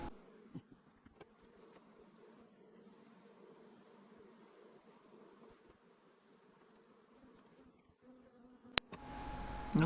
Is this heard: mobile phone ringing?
no